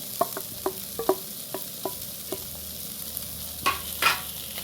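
A spoon scrapes and taps rhythmically against a pan while a curry with fried eggs is mixed, each stroke a distinct knock over a faint background sizzle, with no talking.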